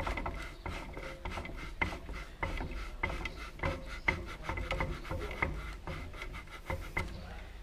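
A pivotal BMX bicycle seat is twisted and lifted off its post, producing a close, steady run of ratcheting clicks, creaks and rubbing scrapes in irregular quick bursts without speech.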